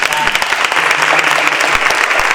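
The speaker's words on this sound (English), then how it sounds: "give her a round of applause" An audience at a 2019 youth panel discussion breaks into steady, full applause for a woman who has just shared a personal story, the dense clapping filling the room at an even level with faint voices mixed in.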